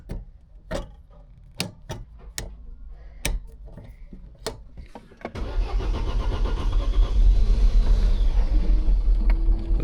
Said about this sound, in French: La pompe marche.